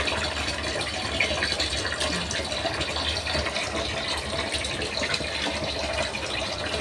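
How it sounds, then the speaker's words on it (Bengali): Tap water gushes steadily and loudly without pause while small fish are washed clean in a home kitchen. "একদম কালো পানি বেরোচ্ছে এখনও"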